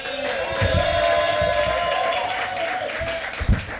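A comedy club audience at the Laugh Factory applauds and cheers for an arriving comic, a sustained crowd roar of clapping and whoops that fades slightly toward the end.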